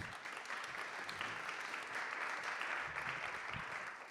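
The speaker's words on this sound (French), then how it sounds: "Je pense qu'on peut les applaudir à nouveau." A conference audience claps together after a research presentation, producing a steady, moderately distant wash of applause that holds for several seconds with no voices over it.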